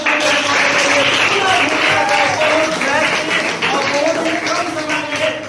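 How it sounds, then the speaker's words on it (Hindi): Loud, steady applause fills a classroom quiz game for several seconds, with a voice talking over the clapping throughout. "जोरदार तालियों"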